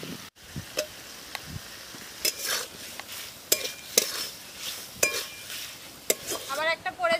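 Fried potatoes are stirred into a spice paste containing mustard in a hot pan, with repeated spatula scrapes and clinks over a light sizzle, loud and close, and no talking.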